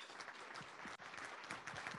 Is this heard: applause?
yes